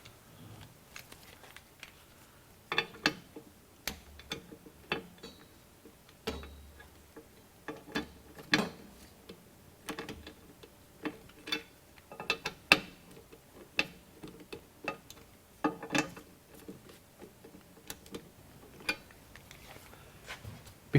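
Irregular sharp ticks and clicks of a ratchet tightening U-bolts during an RV steering stabilizer installation, quiet and close, with pauses between bursts of clicking.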